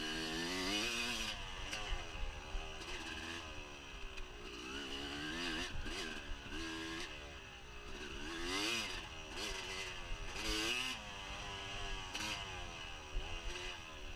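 An off-road dirt bike engine revs and drones through a first lap of a Fox Valley Off Road GP race, rising and falling in pitch as the throttle opens and eases, loud and continuous with no talking.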